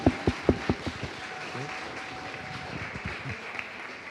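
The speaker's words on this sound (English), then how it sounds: "Can we have a round of applause for our panelists tonight?" An evening student panel event gets brief, fairly close applause from the audience, a handful of sharp claps that fade quickly into quiet room noise.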